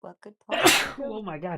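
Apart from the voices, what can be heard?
sneeze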